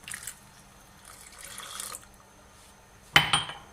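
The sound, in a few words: ice-cold water poured into Kashmiri pink tea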